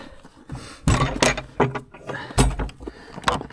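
A swollen wooden door at a winter trail shelter being yanked and tugged, making several loud, close knocks, scrapes and rattles in uneven bursts.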